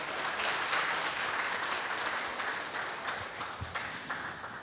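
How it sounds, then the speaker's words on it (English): Audience applause at the ISILL 2025 international law conference and annual meeting at Universitas Islam Indonesia's law faculty: a dense, steady wash of clapping from a large crowd, holding level and then easing slightly toward the end. "Please give a round of applause."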